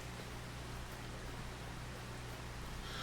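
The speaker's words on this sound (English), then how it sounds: "So, raining still." Steady rain falls in the Farming Simulator 25 farming game, a constant even hiss of downpour at a low level with a faint hum beneath it and nobody speaking.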